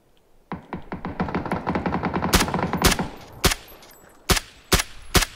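Rapid automatic gunfire from the PUBG battle royale game, a dense burst of quick shots followed by several loud, spaced single cracks, up close with no talk.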